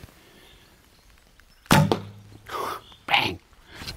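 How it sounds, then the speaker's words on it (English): Lightweight arrows shot from a Sanlida Hermit X10 ILF recurve hunting bow hit the target with a sharp loud bang, followed by two more duller thuds or knocks within a couple of seconds. "It's loud with lightweight arrows."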